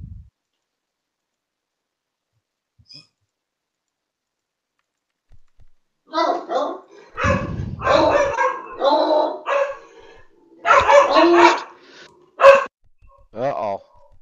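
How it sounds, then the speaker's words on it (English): Dogs bark in the background of a live broadcast of a Broncos practice with the Cowboys, sounding as irregular bursts of barking and yipping over several seconds, fairly close and loud. "someone's dog's pissed"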